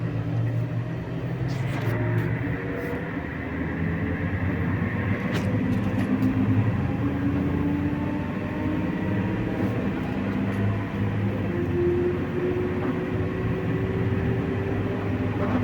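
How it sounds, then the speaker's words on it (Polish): A tractor or farm vehicle towing a full manure trailer accelerates from a standstill toward top speed, a steady droning engine whose pitch climbs gradually over the run, with no voices. "No i teraz rozpędzimy ją od zera do VMAXa"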